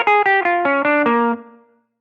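A fuller electric guitar tone from a Line 6 POD Go runs down a short lick of roughly seven bright, slightly driven picked notes, played solo and decaying quickly at the end.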